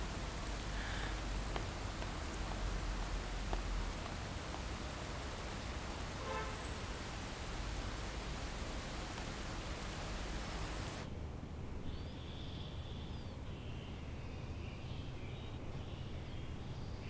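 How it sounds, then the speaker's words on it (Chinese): Steady rain falls as a continuous hiss on a surface for about eleven seconds, then turns quieter and duller, with faint chirps in the background and no speech. "下雨了"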